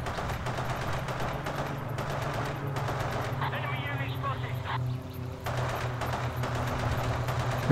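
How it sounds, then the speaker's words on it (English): Vickers machine gun fire in the World War II shooter Forgotten Hope 2, Invasion of Crete map, rattling in steady rapid bursts over a loud continuous engine drone, with brief gaps and a voice talking over parts of it. "it's pretty tough to get a kill with that Vickers machine gun"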